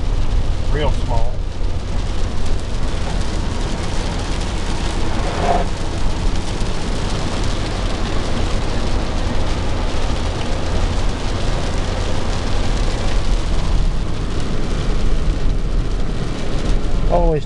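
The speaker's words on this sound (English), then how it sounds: "in the pouring rain" Continuous heavy rain from Tropical Storm Cindy in southwest Ohio roaring over a moving vehicle, dense and loud throughout, with muffled road noise underneath and faint voices buried in it.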